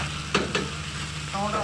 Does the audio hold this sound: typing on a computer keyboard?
no